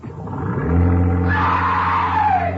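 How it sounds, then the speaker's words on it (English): A cabin cruiser's motor throttling up, a low droning engine hum that swells and rises in pitch with a rushing wash building over it, loud and close with no voices. "I'll open the throttle and we'll cruise out a few yards."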